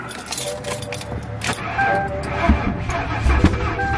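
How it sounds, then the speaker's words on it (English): Keys jangle and click in the ignition of an old Mercury Marauder with a weak battery, followed by a brief engine cranking attempt and a faint rumble, close by. "let's try starting it again"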